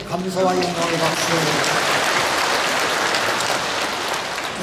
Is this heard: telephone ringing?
no